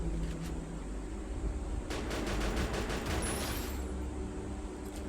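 A K47-style rifle fires in a video game, a rapid burst of gunshots in the middle of a noisy battle background, with scattered single shots before and after.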